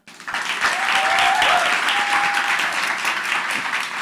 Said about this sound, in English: And that includes Aaliyah Allen, who deserves an immense round of applause.